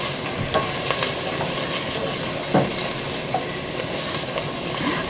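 Onion, garlic, spices and herbs sauté in a pan for a sweet and sour tofu dish, giving a dense, even sizzle with occasional soft stirring scrapes and no voices.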